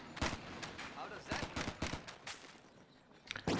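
Company of Heroes 2 machine gun fire plays in short, sharp bursts, joined by scattered single gunshots that stop and start. A voice talks over the shooting throughout.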